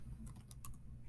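A few quick keystrokes on a computer keyboard while drafting in AutoCAD, soft close clicks in a short burst over a quiet low hum.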